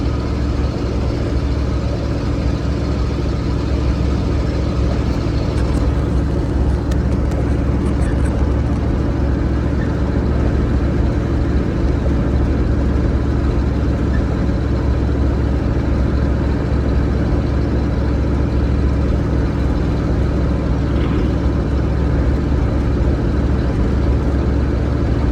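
An old truck's engine idles steadily for the whole stretch, a constant low rumble with no pauses and no change in pitch.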